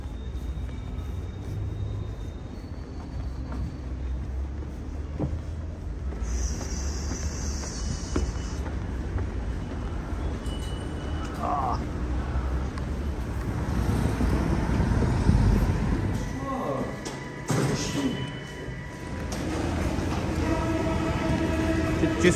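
A Paris Metro line 10 train runs with a steady low rumble and rattle, growing louder toward the middle, with squeals and brief higher tones over the ongoing noise.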